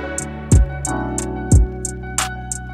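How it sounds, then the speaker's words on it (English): A programmed drum beat with a soda-can sample placed between the third and fourth claps before a deep kick; two heavy booming kicks land about a second apart under sparse, crisp claps and a sustained tonal pad. "I put the soda right here and I put them between my third and my fourth clap"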